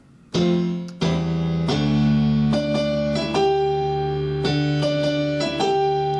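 A piano plays a short phrase in its live style, struck notes and chords ringing and sustained, building with a few quicker repeated notes, no voices.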